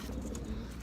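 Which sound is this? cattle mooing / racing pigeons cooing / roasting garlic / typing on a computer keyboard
racing pigeons cooing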